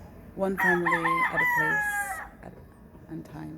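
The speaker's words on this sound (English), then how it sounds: "You will hear some chickens in the background." Chickens cluck and a rooster crows loudly in a yard, one drawn-out cock-a-doodle-doo with a bright tail, then softer clucking, while someone speaks quietly over it.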